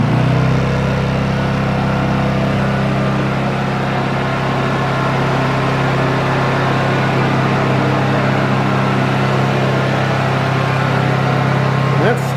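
A Honda EU2200i inverter generator converted to run on propane, running at full speed with a steady, even hum and a constant tonal whine, close and loud throughout with no change in pitch.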